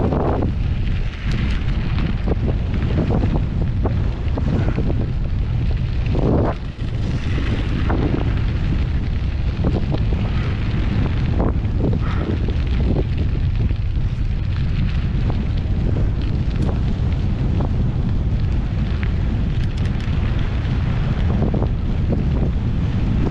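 Strong wind roars and buffets across the microphone while cycling downhill on a gravel road against a headwind, a loud constant rush with gusts and faint crunching of tires underneath, without any talking.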